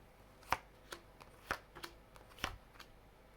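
Tarot cards are shuffled in a quiet room, a handful of sharp separate taps and flicks spaced irregularly at close range, with no talking.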